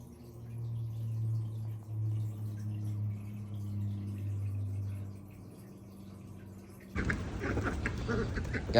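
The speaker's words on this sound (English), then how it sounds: "Go feed our ducks." Backyard ducks quack faintly in a quiet outdoor setting, then a loud rushing, splashing noise bursts in near the end.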